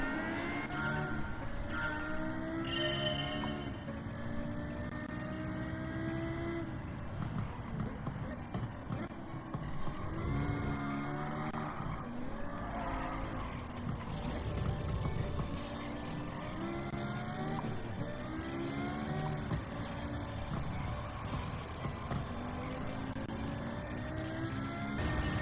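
A Lexus LFA racing in Gran Turismo 7, its engine revving up and down through gear changes in a high, sweeping whine, steady and prominent, with someone talking over it.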